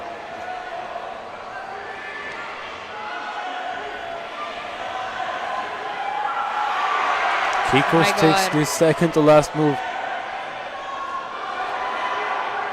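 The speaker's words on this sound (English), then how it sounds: "I hope you can hear the crowd." Spectators at an under-19 bouldering qualification cheer and shout, the noise swelling into a loud roar that peaks and then settles, while a commentator talks throughout.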